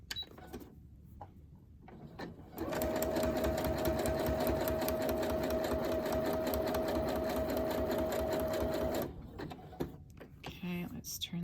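A sewing machine runs a long continuous stitch along a fabric seam for about six seconds, a rapid mechanical chatter over a steady motor whine. Quieter handling noises come before and after the stitching.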